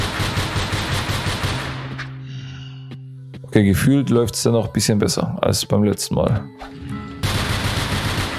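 Rapid bursts of gunfire from the video game NONGUNZ: Doppelgänger Edition open and close the stretch, loud and machine-gun-like, while someone talks in between over quieter game sounds.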